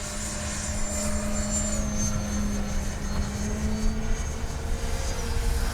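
An FMS Rafale 80mm RC jet flies overhead with a steady distant whine of its ducted fan, faint but continuous, rising and falling slightly as it passes.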